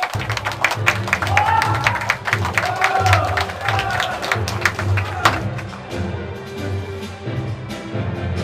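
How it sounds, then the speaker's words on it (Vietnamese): Lively audience applause at a wedding ceremony in a hall, dense clapping with crowd murmur and some cheering over background music, tapering somewhat toward the end. "Xin quý vị hãy dành một tràng pháo tay thật nồng nhé."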